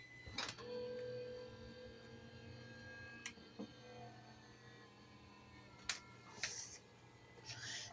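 A cat meows a few times in short, separate calls over a steady low hum, with some faint clicks and rustling in between.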